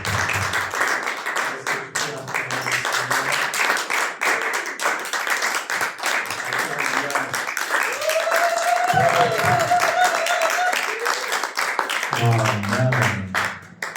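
A church congregation applauds loudly and steadily, a dense wash of clapping that continues for the whole stretch, with music and voices mixed in underneath.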